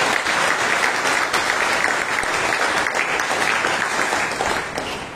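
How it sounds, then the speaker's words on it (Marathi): At a Monday prayer meeting, a congregation gives strong, sustained applause of thanks to God, a dense and even roar of clapping that continues throughout and eases only slightly at the end. "म्हणून आपण जोरदार टाळ्या देवाला धन्यवाद देतो"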